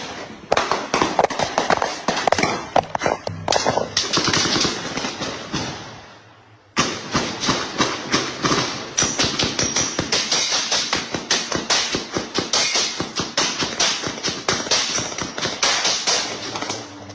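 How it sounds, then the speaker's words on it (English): Sustained, nearly continuous gunfire captured on a phone live stream, with dense rapid cracks and bursts running almost unbroken for the full length, loud and close, with a brief lull partway through. "multiple minutes of nearly continuous gunfire"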